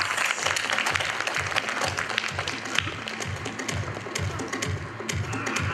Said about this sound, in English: Can we please have a round of applause for the winner?